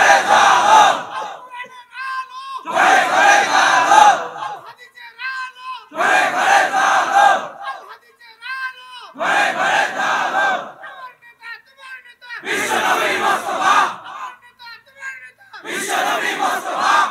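A large crowd at a Bangla Islamic sermon (waz) chants a slogan in unison, with five or six loud, rhythmic bursts of call-and-response roaring separated by brief pauses.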